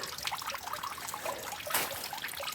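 Water trickles steadily at a spring in the desert near a slot canyon in Capitol Reef, a soft continuous flow close by with no voices.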